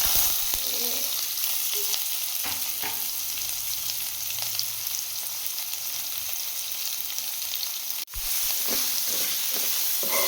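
Chopped onion frying with mustard seeds and cumin in hot tempering oil for a fenugreek leaf gravy, a steady loud sizzle with crackles and a brief stir, no talking.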